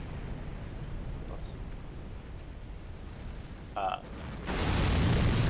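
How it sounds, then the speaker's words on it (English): An explosion goes off in the video game Dark Souls II Scholar of the First Sin, a loud low rumbling burst near the end that follows a quieter stretch of game ambience with a brief clank. "that was a much bigger explosion than I expected"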